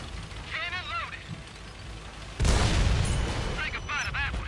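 A heavy tank's cannon in World of Tanks fires a single deep, loud boom that decays slowly, with speaking voices before and after the shot.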